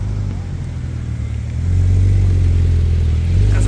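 Tuned, turbocharged BMW M4 pulling away at a Cars & Coffee meet in Luxembourg, its deep engine rising to a loud, sustained roar halfway through, close by with crowd noise underneath.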